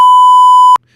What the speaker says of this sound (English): If somebody's saying something, I could cut it out. But here, it beeps over.